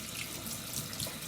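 Tap water running into a sink while makeup brushes are washed, a soft, continuous rushing stream heard alone and fairly faint.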